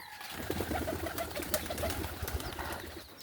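Pigeons kept alongside ducks coo softly and repeatedly nearby, a low murmuring run of calls over faint background noise.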